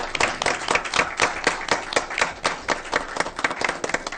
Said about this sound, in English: Please join me in giving them a round of applause for their hard work.